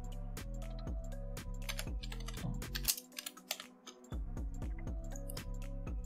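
Fingers type a search on a computer keyboard in quick bursts of clicks, with a short pause midway, over a quiet, steady musical backing.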